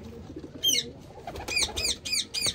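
Old, long-kept homing pigeons coo in a loft, one soft call followed by a run of several repeated coos, close and fairly quiet with faint background noise.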